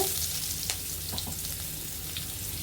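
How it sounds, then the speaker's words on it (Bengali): Chopped onion and whole nigella seeds hit hot oil in a pan, a dense, even sizzle close by with a few faint stirring clicks, no talking. "এখানে একটি পেঁয়াজ কুচি অল্প কিছু পরিমাণের মতো আমরা পেঁয়াজ কুচি এখানে দিয়ে দিব গোটা করে কালো জিরে"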